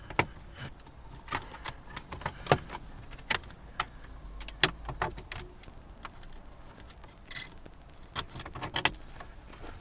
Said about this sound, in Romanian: Aici avem 4 fante în care introducem aceste chei pentru a putea scoate ecranul.